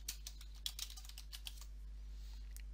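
Soft, quick keystrokes tap on a computer keyboard in a short burst and then slow, quiet and close, over a steady low hum with no talking.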